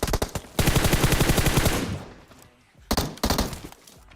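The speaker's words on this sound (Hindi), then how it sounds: "उस बंदे की गन से गोलियां निकल जाती है" Rapid automatic gunfire from the mobile battle royale game PUBG Mobile, a loud burst of repeated shots lasting over a second, followed by a pause and a few more sharp shots and impacts.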